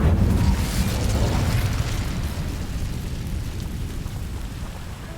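A fiery blast from the Incendio spell in the Hogwarts Legacy video game, a loud roaring burst that slowly fades into a steady crackling rumble.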